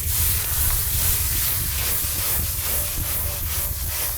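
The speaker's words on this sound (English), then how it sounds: "To add some light soy, wait till the wok's hot before adding soy." Light soy sauce hitting a hot wok during a snow pea stir-fry, producing a loud, continuous hissing sizzle with a low rumbling undertone, close up and unbroken for several seconds, with no voices.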